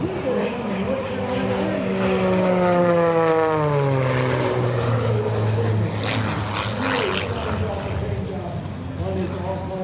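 An all-carbon-fiber aerobatic propeller airplane flies at an airshow, its engine droning with a sweeping pitch that falls as it passes, loud and steady over crowd and ambient noise.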